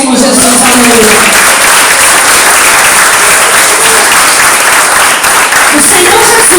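A church congregation claps loudly and continuously, with dense applause filling the space and some voices mixed in beneath the clapping.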